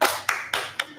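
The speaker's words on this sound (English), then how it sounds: "can you give me a round of applause?" A few people clap at a program launch event in Tanzania, sharp separate hand claps in a short uneven sequence, close and moderately loud.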